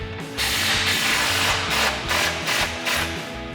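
Continuous ratcheting from a hand ratchet fitted with a 24mm socket, loosening the retainer nut on a RAM 1500 front lower control arm; dense, rapid clicking that is loud and close, pulsing in a few strokes, with no talk.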